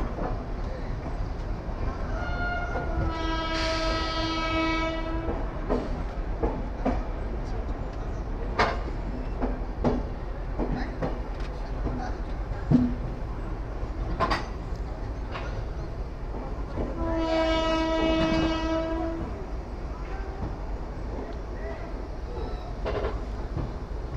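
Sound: train travelling on the way to Asansol station

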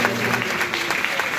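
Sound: audience applause

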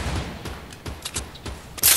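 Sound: gunfire from the video game Fortnite

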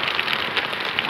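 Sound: heavy rain falling on a street

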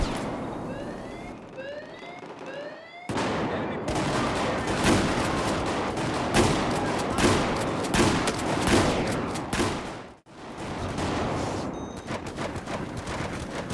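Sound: shotgun fire from the hip in video game Battlefield 4

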